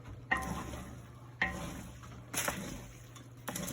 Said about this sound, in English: This is how we stir the pot.